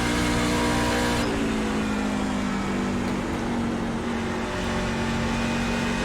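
Racing truck engine in iRacing at Nashville Superspeedway, a loud continuous high drone with steady harmonics that drops slightly in pitch after the first second and then holds alone.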